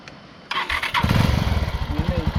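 A motorcycle engine cranks and catches near a waterfall outside Pokhara, then settles into a loud, rapid, pulsing idle close by, with a voice speaking briefly as it starts.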